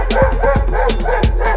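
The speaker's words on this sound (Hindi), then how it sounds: "तुम सब देखो अब मैं कैसे इन कुत्तों को भगाता हूँ।" Dogs in a comedy short bark in a quick run of sharp, close barks and yips over a steady low background hum.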